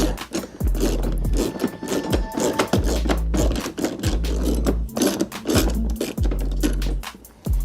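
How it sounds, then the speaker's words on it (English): Nut being removed with a 14mm socket on a Power Wheels ride-on toy: a rapid run of loud, close ratcheting clicks in repeated bursts, broken by brief pauses as the socket is reset. "we're gonna use a 14mm socket, and we're just gonna take off this nice little nut here."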